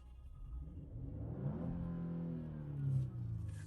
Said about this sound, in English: it's gonna amplify the sound of the engine